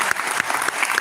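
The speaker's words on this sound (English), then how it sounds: "give her a round of applause" Audience applause at a Million Man March gathering in Newark, New Jersey: a dense, steady wash of clapping with a few sharper individual claps standing out, fairly loud and continuous for a short burst.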